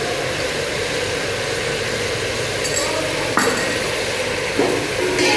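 Bitter gourd and onions frying in a pan, a steady loud hiss of sizzling with a few sharp stir scrapes near the end, under a continuous low hum.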